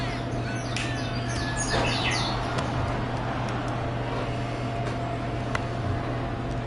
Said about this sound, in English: The camera's going by itself and playing the bird noise.